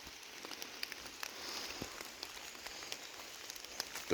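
Rain falls in the woods of the Catskill Mountains on a rainy day, a steady soft patter with scattered close drips and ticks, no voices.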